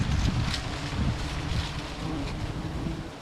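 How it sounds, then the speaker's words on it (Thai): Strong wind buffets the microphone outdoors during rural honey hunting in Thailand, a continuous low roaring rush with gusty swells and no speech. "ลมแรงครับ"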